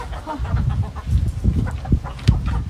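Chickens cluck and murmur close by in a busy, uneven stream, with a few sharper squawks standing out.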